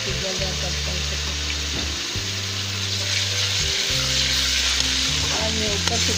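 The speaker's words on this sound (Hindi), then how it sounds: "आज मैं पहले तड़का लगा रही हूँ" Spices sizzling and frying steadily in hot oil for a tadka for red masoor lentil dal, with occasional stirring and a faint running tap in the background.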